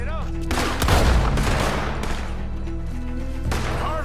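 Heavy video-game gunfire in a crime shootout, bursts of rapid automatic shots and sharp blasts at close range, with brief voices mixed underneath.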